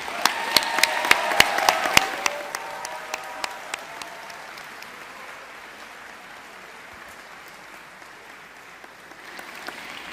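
Crowd applause with sharp individual claps up front, thinning over a few seconds into a steady, softer patter of distant clapping.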